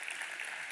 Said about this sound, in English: I'm glad to clap for that.